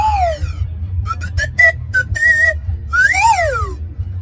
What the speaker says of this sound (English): I included the slide whistle on my washboard.